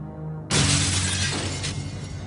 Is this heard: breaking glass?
yes